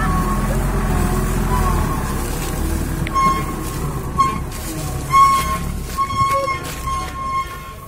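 A heavy sugarcane truck labours out of a field in Bondowoso, its deep engine rumble steady and loud throughout, with excited voices shouting nearby over the noise.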